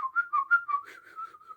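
A person whistles a short wavering tune alone, a few rising and falling notes close up, used to demonstrate the puckered lip shape for playing a blues harmonica.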